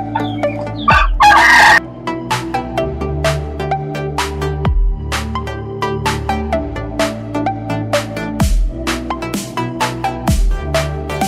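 Aseel roosters crowing loudly and close, with one long cock-a-doodle-doo followed by steady rhythmic clucking from the birds throughout.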